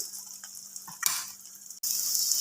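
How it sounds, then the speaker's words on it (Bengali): Chana dal frying in hot oil, a bright steady sizzle with a few spoon clinks and a short break before the frying noise returns. "আমি ছোলার ডাল তেলে দিয়ে দিয়েছি"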